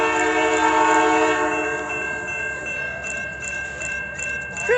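The CPKC Holiday train rolls by at Romulus, Michigan, its horn blaring loudly and continuously up close over the rumble of the moving train, with the horn tones shifting as it passes.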